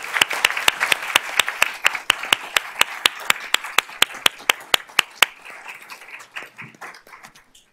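Applause at a school board meeting honoring award-winning art students: a small group claps in a sharp, regular rhythm of distinct close hand claps, then the claps thin out and scatter before fading.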